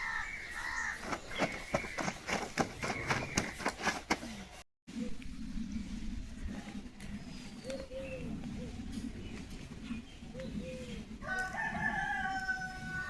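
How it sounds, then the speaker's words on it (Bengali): A rooster at a neighbouring house crows from a distance near the end, after a stretch of rhythmic rustling and faint outdoor garden background. "দেখো পাশের বাড়ি মুরগি ডাকছে"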